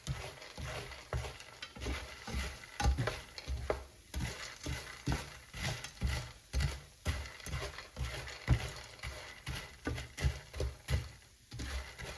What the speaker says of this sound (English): mix it until the Cheerios are coated with butter